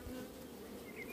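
Honeybees drone in a close, continuous buzz at a hive frame, with no voices over it.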